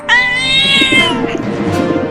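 A cat meows loudly and close by, one drawn-out wavering cry that trails off into rougher noise.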